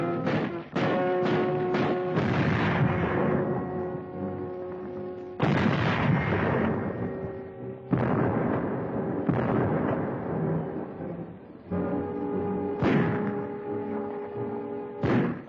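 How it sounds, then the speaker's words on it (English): Heavy artillery bombarding the harbor at Gdynia during the 1939 German invasion of Poland, a series of loud deep booms in old newsreel sound, each followed by a long rumbling decay, with no talk. "The Nazis direct their fire across the harbor."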